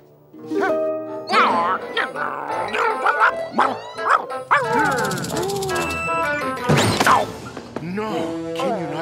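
Cartoon dog from a Garfield episode yipping, barking and whimpering in close, busy bursts, mixed with cartoon voices talking throughout.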